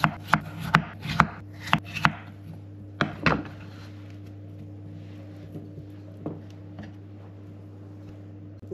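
Knife chopping carrots on a cutting board while preparing vegetables for a slow-cooked wild duck: a quick run of sharp, close knocks in the first few seconds, then scattered single chops fading to occasional taps, with a steady low hum underneath.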